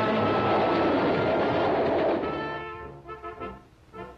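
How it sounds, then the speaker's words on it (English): A ski train rolls along mountain rails, its loud steady rumble and wheel clatter filling the first two seconds, then thinning into rhythmic clickety-clack bursts as it moves off. "Ski enthusiasts travel to high mountain slides in special conveyances known as ski trains."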